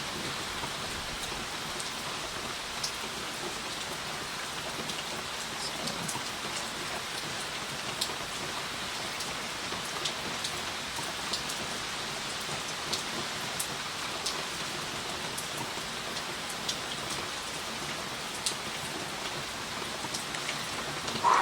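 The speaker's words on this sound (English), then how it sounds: "Love that I can just let you guys like listen to the rain while I do this." Continuous rain falling on a surface, a steady soft patter with occasional sharper drops, no voices.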